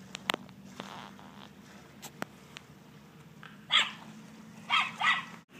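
A dog barks several times outdoors at night during a hunting outing, in separate bursts toward the end, with a few faint yips and clicks earlier.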